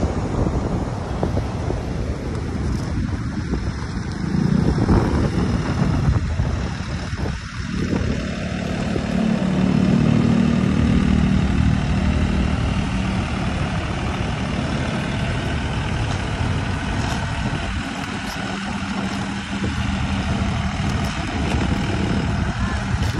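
A tractor engine idles steadily at a Manila Bay cleanup site on Dolomite beach, a low continuous rumble under heavy wind buffeting on the microphone, with occasional revving swells and no clear talk.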